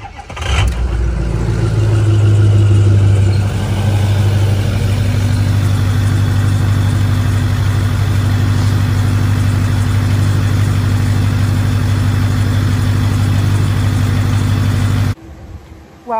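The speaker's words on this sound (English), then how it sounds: "But sometimes we just gotta listen to the 6-0 start." A 6.0 engine cranks and fires up, revs briefly, then settles into a loud, steady, deep idle that drones on close by before cutting off abruptly.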